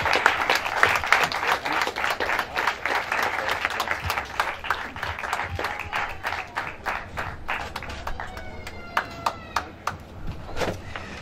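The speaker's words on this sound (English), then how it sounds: "So let's have a big round of applause for Rob Simpkins." A crowd at an SM Fightclub Hands & Heart fight event applauds Rob Simpkins, with dense clapping that thins into scattered individual claps. A voice briefly speaks near the end.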